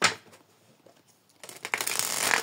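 Tarot cards being shuffled for a reading, with a brief riffle at the start, a quiet gap, then a longer, denser run of papery shuffling and card flicks near the end.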